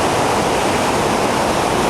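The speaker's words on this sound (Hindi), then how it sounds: "कि कितनी पुरशोर नदी है और इसका पानी कितना तेज़ है।" A roaring, fast-flowing river among the high mountains of Gilgit gives a steady, dense rush of water, loud and close, with no break and no voices.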